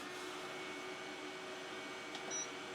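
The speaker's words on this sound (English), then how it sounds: "it opens up a little valve and it's blowing the air" Air dryer of an elongated smart bidet toilet seat blowing, a steady faint whooshing hum with a soft electronic tone near the end.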